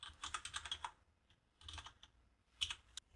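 Typing on a computer keyboard: three short bursts of quick key clicks separated by pauses, close and fairly quiet, with no talking.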